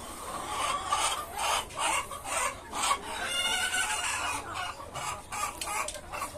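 Fayoumi chickens on a rooftop farm cluck continuously in a busy chorus, many birds close by with overlapping rhythmic calls and a raspy texture throughout.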